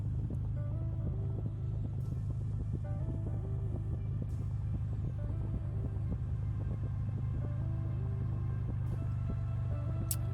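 A motorcycle engine drones steadily while riding on an open road, a constant low rumble with wind buffeting and faint shifting tones throughout.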